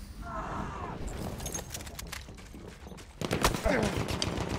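Battlefield 1 gunfire in a team match: a stretch of rapid shots and bursts sits under game ambience and explosions, growing louder and denser toward the end.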